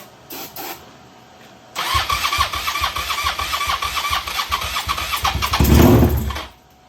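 A Suzuki SV650 motorcycle fitted with Hayabusa ignition coils cranks and fires up for the first time. It catches into a loud, rough, pulsing run nearby and swells in a brief rev before cutting off abruptly.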